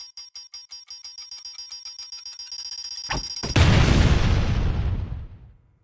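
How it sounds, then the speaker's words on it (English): A game bomb timer's ticks and beeps speed up and grow louder, then burst into a loud explosion that fades away over the last couple of seconds. "After a few seconds, the bomb will start to beep, and the timer will increase in volume and speed"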